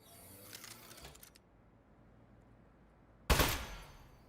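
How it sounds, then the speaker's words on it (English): An Aperture Science turret in a video game fires a rapid mechanical rattle of shots, then falls silent before one loud, sharp burst near the end. "Presenting the Aperture Science Turret."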